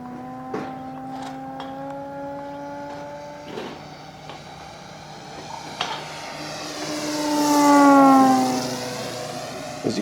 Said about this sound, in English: As you can see, even throttled back, this thing just moves out.